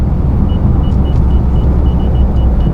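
A car with a 426 engine driving slowly on the road, a loud, steady low rumble with a faint repeating high chirp over it, no voices.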